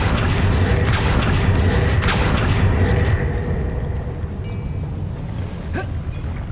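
Accio summoning spell cast in Hogwarts Legacy, a loud rushing magical burst with rumbling low end that fades into a thin shimmering tail, followed by a faint sharp click.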